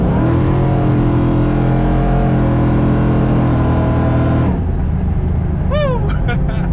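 A supercharged car with a 6R80 automatic transmission and new billet motor and transmission mounts pulls hard under acceleration, a loud steady engine drone rising in pitch before easing off, with a voice cheering near the end.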